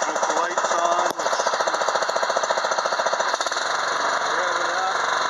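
A Honda GX390 small engine runs at a steady idle after starting, its loud, even mechanical chugging continuing close by throughout, with a brief knock near the start and a faint voice underneath.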